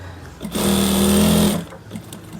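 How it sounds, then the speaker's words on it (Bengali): A sewing machine stitches a trouser back pocket in one loud, steady run of close mechanical whirring that lasts about a second, with quiet handling sounds before and after. "এবার সেলাই করে দিবেন।"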